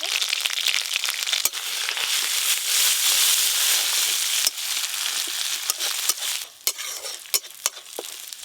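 Ginger-cumin paste with a little turmeric sizzles steadily in hot mustard oil, a loud continuous hiss dotted with sharp spattering pops and crackles that grow sparser toward the end.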